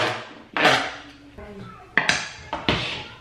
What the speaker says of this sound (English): I'll just mix up the cauliflower